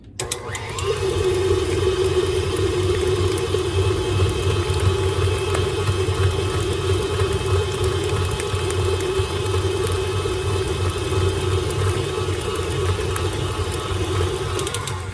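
An electric mixer creams butter for an old-fashioned pound cake, starting abruptly and then holding a loud, steady motor whir without pause.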